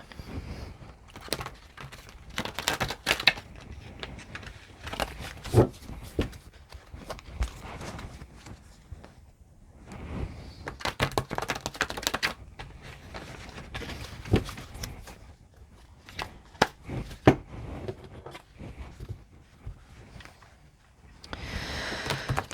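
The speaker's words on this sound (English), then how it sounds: "Alright, I'm just going to do some shuffling here." A deck of cards gets shuffled repeatedly, with bursts of rapid riffling and flapping broken by short pauses, close and moderately quiet.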